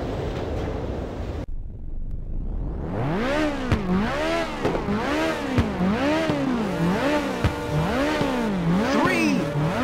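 Race car engines in the Ridge Racer video game rev together at the starting line, a loud rising whine that swings up and down in repeated rhythmic surges, layered and close.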